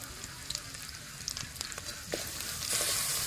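Spinach paste frying in a pan with rice flour, red chilli powder, turmeric and salt gives a soft, steady sizzle with scattered light crackles. The sizzle swells louder toward the end.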